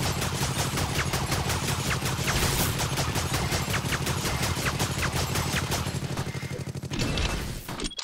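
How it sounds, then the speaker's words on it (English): A heavy machine gun in the game Awesomenauts fires a long, loud burst of rapid shots that keeps a steady rhythm for about seven seconds, then stops with a final clatter. "Heavy machine gun."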